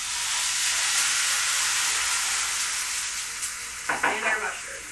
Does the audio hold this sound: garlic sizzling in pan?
yes